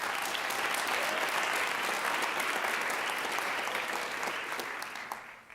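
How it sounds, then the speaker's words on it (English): A college oratorical contest audience claps steadily in a hall, a dense, even wash of applause that holds for several seconds and then tapers off at the end. "Let's give him a round of applause."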